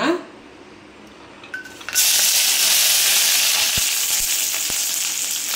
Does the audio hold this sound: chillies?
yes